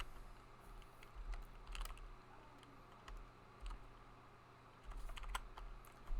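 Keys clacking on a computer keyboard as a character name is typed in Old School RuneScape, a few short bursts of quick taps over a steady low hum, fairly quiet and close.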